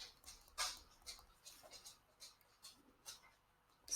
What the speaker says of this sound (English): you can hear my dog walking around, his claws on the wooden floor